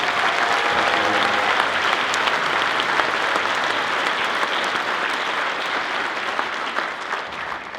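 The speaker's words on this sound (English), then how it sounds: "let's give Steve Anderson a big round of applause for helping" An audience at a Central Oregon high school honor band event gives sustained applause, a thick continuous patter of many clapping hands, fairly loud and even, easing off slightly toward the end.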